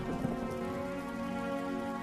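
Steady cartoon rain falls on a rice-farming village, an even, constant hiss with a faint low rumble underneath, alone with no voices.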